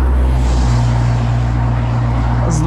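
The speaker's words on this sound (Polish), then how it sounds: "Patrzcie, auto jedzie" A car rolls along a roadside nearby with a loud, steady engine and road drone that stays constant. A brief higher hiss comes near the end.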